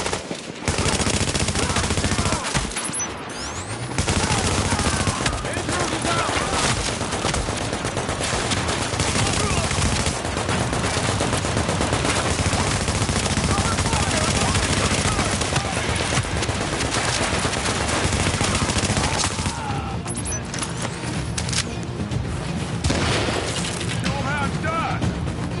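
A deployed gun turret fires in Tom Clancy's The Division, a dense, continuous rattle of automatic fire mixed with other gunshots, loud and sustained for most of the stretch with a brief lull near the start.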